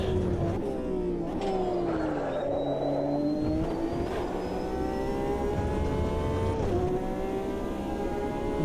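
A Porsche race car engine in the Automobilista 2 racing game revs loudly and continuously, its whining pitch dipping and climbing in smooth sweeps close up.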